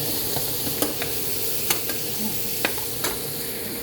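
Jambalaya sizzling steadily in a pan, heard up close, with a few sharp clicks and taps from stirring scattered through it.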